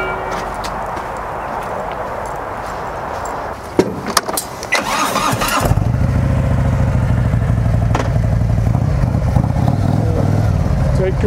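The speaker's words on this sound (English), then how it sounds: "Take your bike and you ride it up. Very, very easy, slowly." A motorcycle rides slowly up onto a BikeNord motorcycle trailer, its engine a steady low rumble that swells and stays loud after a brief clatter of handling noise, with some talk underneath.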